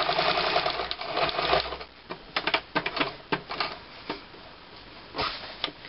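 A sewing machine stitching piping onto a small striped cushion: a fast, dense mechanical whir at first, then a run of separate clicks and short taps as the needle stops and the fabric is pivoted.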